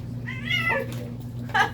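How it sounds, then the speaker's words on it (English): A startled house cat lets out two sharp, close meows after being stepped on, the first drawn out and the second brief, over a steady low electrical hum, with no talking. "Sorry, I stepped on the cat."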